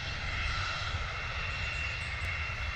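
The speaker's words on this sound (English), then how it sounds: "Pretty quiet there from the Ryanair 737 on the arrival." A Ryanair Boeing 737 arriving at London Stansted gives a soft, steady engine whine and hum, fairly distant and subdued throughout with no other sounds on top.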